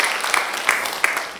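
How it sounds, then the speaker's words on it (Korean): A church congregation applauds after a hymn during a Korean worship service, a dense, steady wash of clapping with a few sharper individual claps standing out, with no voices over it. "박수 한번 해주셔요."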